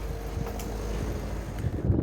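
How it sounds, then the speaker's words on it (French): Wind buffets the microphone on a chilly morning at Fromentine, a steady low rumble throughout with no voices. "il y a du vent"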